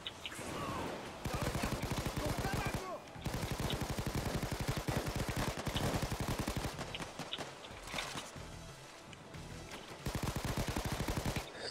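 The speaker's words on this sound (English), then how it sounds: "I just pumped 6 rounds out and not a single one touched him" Rapid gunfire in a video game, dense bursts of repeated shots in long runs broken by short pauses, loud and close with no talk.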